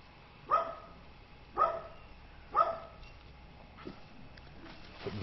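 Three evenly spaced barks from a dog in the background ring out about a second apart, followed by a couple of fainter yips, moderately distant in an outdoor garden setting.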